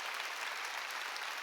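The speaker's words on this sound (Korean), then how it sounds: "박수 치려면 세게 치고" A church congregation at a Sunday worship service claps together, a faint, even wash of applause heard from a distance that holds steady through the whole short moment.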